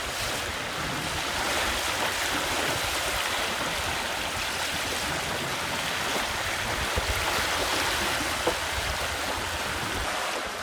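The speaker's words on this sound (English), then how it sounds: "A nice boat going by me." A boat rushes past across the water near Hamilton Island, a steady broad wash of churning spray and engine noise with wind buffeting the microphone, no voices.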